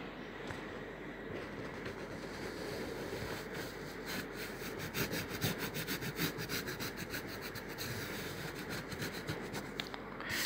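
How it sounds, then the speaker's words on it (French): A pencil draws lines on paper in close, scratchy strokes. The strokes are faint and sparse at first, then come as a rapid run of rubbing passes in the second half. "je vais renforcer les autres traits comme ça"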